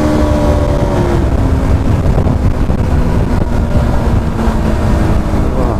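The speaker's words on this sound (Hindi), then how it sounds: "साउंड यार इस बाइक में काफी जबरदस्त सा आता है।" A KTM RC 200 BS6 motorcycle engine runs steadily at close range, a continuous loud drone mixed with heavy wind rush and no talking.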